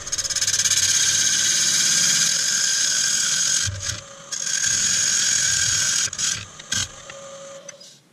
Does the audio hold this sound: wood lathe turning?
yes